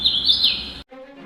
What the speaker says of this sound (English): a Hooded Warbler